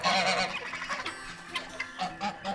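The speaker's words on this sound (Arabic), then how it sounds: "واللي على اليمين دوت ده وز بلدي عادي" Domestic local-breed geese honk loudly and repeatedly at close range in a poultry yard, a noisy overlapping chorus of nasal calls with no talking.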